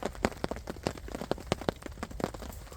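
Melting snow drips from trees onto a winter woodland camp, a dense patter of irregular close and distant drops that sounds much like rain.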